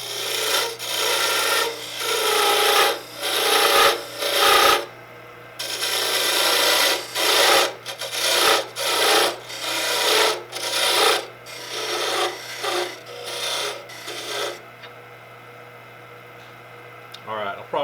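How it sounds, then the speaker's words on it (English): A 1/4 inch parting tool cuts into wood spinning on a lathe for a turned Christmas tree decoration, loud rasping scrapes in repeated bursts over a steady motor hum, trailing off to the hum alone. "So for that I'm going to use the 1/4 inch parting tool."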